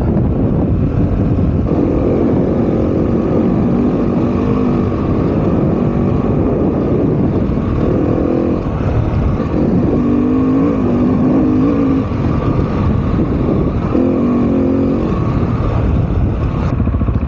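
A Husqvarna 701 Enduro motorcycle engine drones and revs continuously as it rides a slippery dirt track in a rally raid, its pitch rising and falling with gear changes, close and loud throughout.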